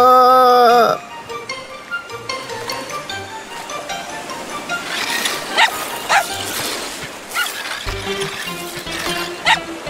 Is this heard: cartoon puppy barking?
yes